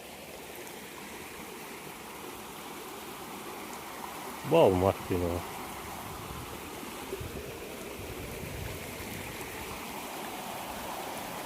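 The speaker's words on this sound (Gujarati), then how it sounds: "ખડખડતા નીર" Shallow rushing stream, knee-deep water across a rural crossing, flowing steadily throughout under a brief burst of nearby talk.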